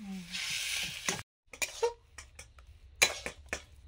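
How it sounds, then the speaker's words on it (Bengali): Potato filling for parathas is stirred in a kadai, with scattered scraping taps and light sizzling after a short pause. "এই যে কড়াতে নেড়ে নিলে একদম জল বেরোবে না, শুকনো শুকনো হবে"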